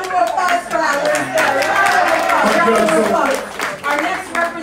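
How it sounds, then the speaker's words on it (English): Crowd at a political party anniversary celebration and office launch claps and cheers, with loud overlapping voices and chatter mixed into the clapping throughout. "Round of applause for Alice."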